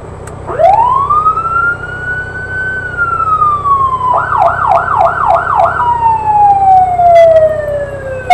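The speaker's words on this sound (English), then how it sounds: "The switch here will turn the siren on." A fire engine's siren winds up from low to a long high wail, then bursts into a rapid warbling yelp before gliding back down, loud and close with no talk.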